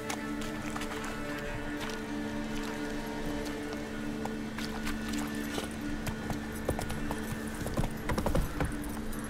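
Roach, a horse in The Witcher 3, galloping with a steady, rapid clip-clop of hooves at moderate distance beneath a constant ambient hum, growing slightly louder near the end; no talking.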